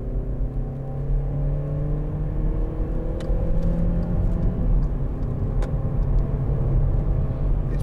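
Interior drone of a 2011 Volkswagen Polo 1.4 Match DSG cruising on a motorway, a steady low engine and road rumble with faint tyre whir and occasional light clicks.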